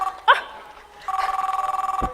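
A cell phone rings with a rapid pulsing electronic trill that starts midway and continues for about a second, preceded by a short yelp-like sound in an otherwise quiet room.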